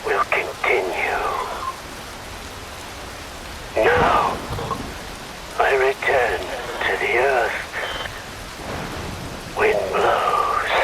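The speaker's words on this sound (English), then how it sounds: "Rain falls." Rain pours steadily in a cutscene from the action game Metal Gear Rising: Revengeance, a constant hiss running beneath several spoken lines.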